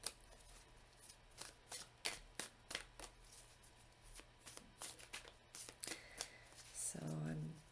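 A deck of oracle cards being shuffled by hand in quick riffling bursts and soft flicks, close and quiet, and a voice speaks briefly near the end.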